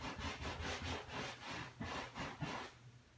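Chalk paint being brushed onto a sofa, the brush dipped and rubbed back and forth in a steady scrubbing rhythm, close and fairly loud, with no voices.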